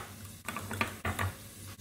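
Spoon stirring mayonnaise, barbecue sauce and ketchup together in a bowl, with a few close, soft scraping and tapping strokes and brief pauses, heard alone.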